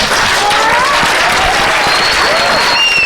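A conference crowd at a gaming show bursts into loud, close applause, dense continuous clapping with a few whoops and cheers rising over it.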